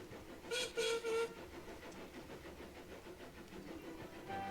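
A miniature railway train sounds its whistle in two or three short, shrill toots, followed by a low, steady rumble of the running train, all fairly faint and distant.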